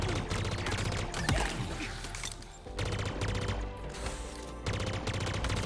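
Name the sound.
upgraded weapon burst fire in Halo Infinite video game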